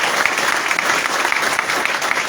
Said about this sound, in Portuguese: uma salva de palmas, minha querida companheira Andréia